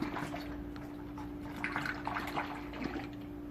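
Coolant is poured into a Pontiac Grand Am, a soft, steady trickling and glugging of liquid into the reservoir with faint dripping, heard close and alone over a low background hum.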